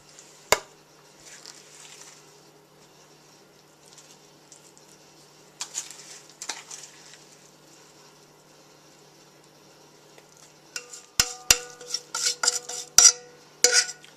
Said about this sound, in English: we are just going to take a spoon, I'm going to scrape this off, and we're just going to drop this by spoonfuls on top of our mixture